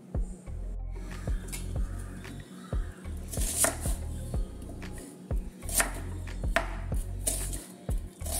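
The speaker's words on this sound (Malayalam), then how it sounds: "കുറച്ച് വലുതായിട്ട് തന്നെ മുറിക്കാം." A knife chops irumbanpuli (bilimbi) into large pieces for chutney: steady, close, rhythmic thuds on a cutting board, coming in quick bursts with short pauses and no talking.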